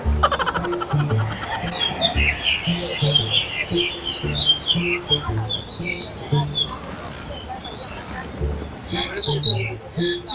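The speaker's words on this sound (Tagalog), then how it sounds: "Naririnig niyo ba yung mga ibon?" Birds chirp and tweet in a Hong Kong park: scattered bright calls come and go at a moderate distance over a low, busy background that may hold faint voices.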